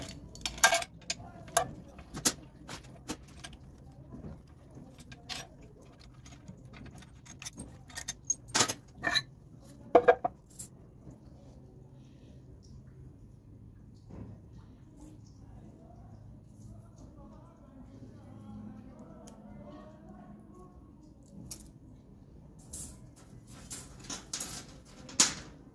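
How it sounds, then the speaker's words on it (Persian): A shaft assembly is taken apart and a washer is added, heard as sparse metallic clicks, taps and clinks scattered across quiet workshop room tone, with someone speaking between them. "باز میکنیم، واشر اضافه میکنیم"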